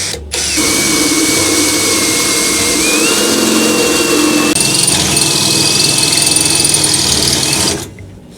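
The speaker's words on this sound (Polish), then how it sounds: "Najpierw sobie dziureczkę przewiercę na przewylot" A power drill whines steadily at high speed for several seconds as it drills through a pipe, its pitch rising slightly as it bites, then stops abruptly.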